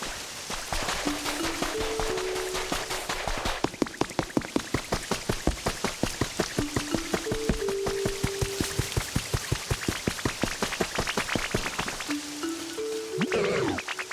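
Steady rain falling in the Pokemon Pokopia video game, a dense even patter running throughout alongside light repeated game tones and sparse musical notes.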